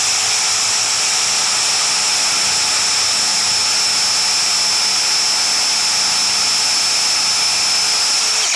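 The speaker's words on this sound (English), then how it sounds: "just get that little spur engaged, and then we're going to drill" A power drill turning a spur bit into wood makes a steady, loud, even whine that holds without a break for the whole stretch, with no talk over it.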